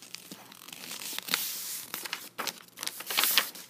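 Sheets of paper being folded into a paper airplane, with a string of soft crinkling, creasing and rustling sounds close by, fairly quiet and irregular, with a few louder crisp presses.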